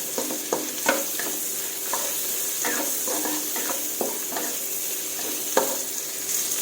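Chinese cabbage being stir-fried in a pan, with a continuous close sizzle broken by irregular scraping strokes of a spatula and a few sharper knocks, with no talk.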